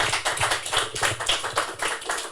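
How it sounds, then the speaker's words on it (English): Audience applause at a live show for Barry, a dense, steady wash of many hands clapping at close range, sustained with rippling peaks throughout. "Round of applause for Barry, please."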